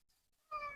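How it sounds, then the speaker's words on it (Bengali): A single short cat meow starts abruptly halfway through and holds clear and close, a house cat in a Bangladeshi village kitchen pleading for raw chicken being cut for biryani. "বিলাই মুরগি চাইতেছে"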